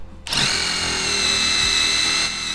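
A power drill starts up with a sharp whine and runs steadily, boring a 25/64-inch through hole in wood at close range, the motor pitch holding even throughout.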